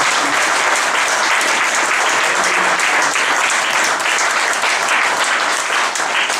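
Church congregation at an evangelical French-language service bursting into loud, sustained applause, a dense wash of clapping that holds steady throughout with no pauses.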